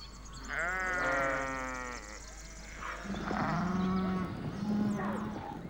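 Several sheep bleat in turn, wavering calls overlapping one another, fairly close with no talking.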